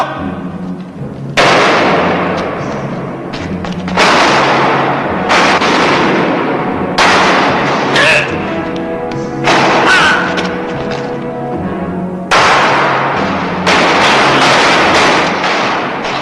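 Gunshots fired into the air in a western gunfight ring out as a series of loud, sharp reports spaced a second or two apart, each with a long echoing tail, some shots coming in quick pairs.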